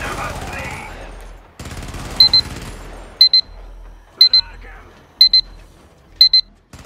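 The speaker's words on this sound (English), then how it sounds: "You heard the alarm go off." Alarm in the Helldivers video game, sounding as five sharp, high double beeps at roughly one-second intervals over a low game rumble and effects.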